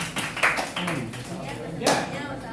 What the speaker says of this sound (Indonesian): tepuk tangan untuk hasil karya teman kamu ini